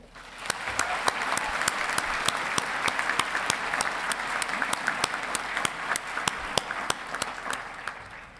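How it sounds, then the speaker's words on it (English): A graduation audience at the Colorado State University veterinary medicine ceremony applauds the CSU Brass Ensemble with sustained, dense clapping from a large crowd that holds steady throughout and fades at the very end. "Let's start with a round of applause for the CSU Brass Ensemble."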